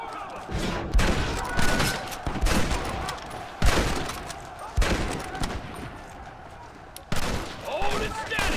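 Red Dead Redemption gunfire: repeated loud volleys of shots in irregular bursts, overlapping with shouted voices throughout.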